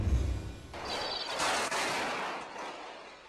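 Combat footage from Iraq: a deep boom followed by a sustained, roaring rush of noise, loud and continuous for about three seconds, with no speech.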